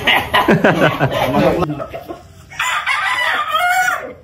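A rooster crows loudly and close by, with clucking around it and someone talking over the start of the clip.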